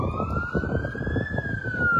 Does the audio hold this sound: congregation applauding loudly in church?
no